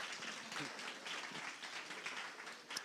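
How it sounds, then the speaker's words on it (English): Conference audience at a cultured meat symposium giving a standing ovation, a fairly faint, uneven patter of clapping with a few louder individual claps near the end. "So give them a round of applause, a standing ovation"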